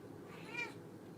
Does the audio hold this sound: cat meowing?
yes